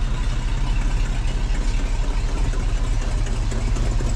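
An old Ford F700 truck, its hood badge marking a 372 engine, idles in a shop with a loud, steady low rumble and an even rhythmic throb, without talk.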